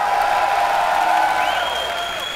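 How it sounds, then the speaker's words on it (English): Cheering crowd at a StarCraft II tournament, MLG Columbus 2011, greeting player EGIdra; steady, loud massed cheers and applause that fill the whole moment, with a rising whoop near the end. "Give a cheer for the man who is one game away from elimination, EGIdra!"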